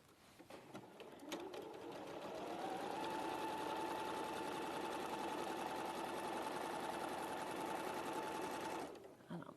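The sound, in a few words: sewing machine stitching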